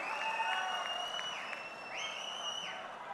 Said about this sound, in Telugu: గట్టిగా చప్పట్లు కొట్టి మనస్ఫూర్తిగా అభినందించండి